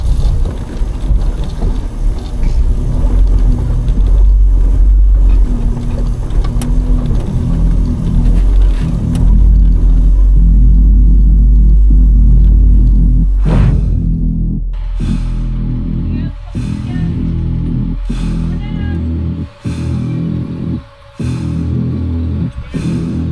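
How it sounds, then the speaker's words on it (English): A Toyota truck rock crawls along an Idaho trail over pebbles, its engine a loud, continuous low rumble with wind buffeting, then the drone cuts back and a series of sharp knocks and crunches follows as stones shift under the tires. "We're driving over some pebbles here"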